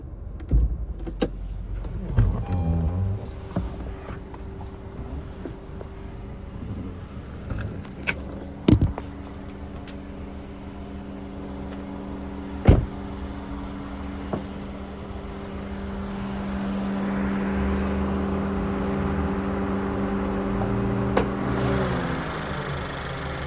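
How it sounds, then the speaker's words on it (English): A grey 2018 Honda CR-V VTi 2WD wagon idles with a steady low mechanical hum that holds throughout. Occasional sharp clicks and thumps from the car break in, and no one speaks. "Well, we got the car running"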